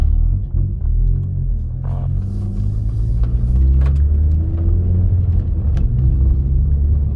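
Deep, steady exhaust rumble from a Honda Civic Si engine, loud and close throughout with slight swells in revs, no talking.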